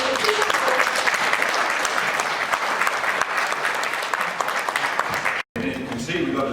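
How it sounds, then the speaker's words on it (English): Steady, dense applause from an audience at a tourism launch event, filling the space continuously for several seconds before a brief drop-out and a softer continuation. "let's give ourselves a big round of applause for the"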